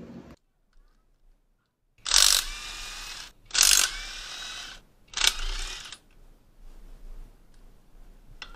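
Tools work on a motorcycle drum brake shoe assembly being taken apart for shoe replacement: three loud, close, second-long bursts of harsh mechanical rasping with short pauses between them, then quieter handling noise.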